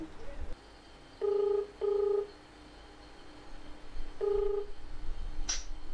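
Ringback tones of a phone call to a Samsung service center pulse through a quiet room, three steady beeps in a short rhythm with a faint hum underneath and a sharp click at the end.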